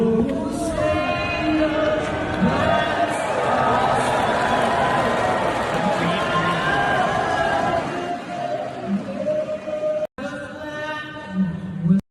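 A large crowd at an NBA game in London cheers and roars continuously and loudly, a dense wash of voices that swells and then fades near the end.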